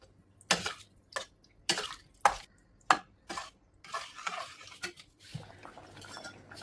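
A spoon stirs a mashed tapioca and coconut milk mixture with black pepper in a pan, making fairly faint, irregular scrapes and knocks against the pan.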